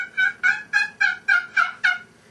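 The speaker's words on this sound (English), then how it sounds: "This one here is a Haley caller. It has two sides to it." A Haley box call played on its raspy side gives seven sharp, evenly spaced turkey yelps, loud and close, each a raspy burst with no talking.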